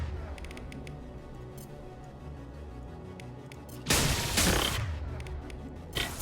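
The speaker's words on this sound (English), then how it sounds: "Who the heck are you guys shooting at?" Gunfire in Mass Effect 2: faint rapid clicks and pops give way to two loud bursts of shooting, one sustained roughly half a second and a shorter one at the end, over a low game background.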